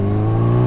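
A Kawasaki Ninja H2 motorcycle fitted with an aftermarket exhaust gives a loud, steady, close engine drone with a strong low tone, holding a constant note with no audible speech.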